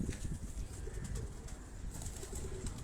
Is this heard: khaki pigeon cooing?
yes